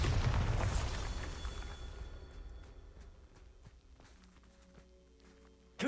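A Bombarda explosive spell in Hogwarts Legacy: a loud burst with a deep boom at the start that decays into a long fading rumble and scattered debris-like clatter, then a sharp thump right at the end.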